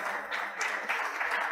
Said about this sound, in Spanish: quiero que le demos un muy fuerte aplauso a Federico